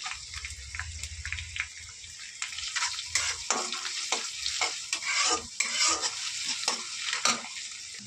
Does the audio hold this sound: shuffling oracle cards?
no